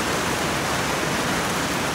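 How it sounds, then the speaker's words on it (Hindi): Morning rain falls steadily on a Saturday, heard as a dense, even hiss with no breaks and no voices. "और बारिश स्टार्ट हो चुकी है"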